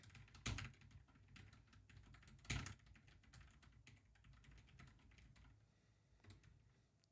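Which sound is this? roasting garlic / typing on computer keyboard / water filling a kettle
typing on computer keyboard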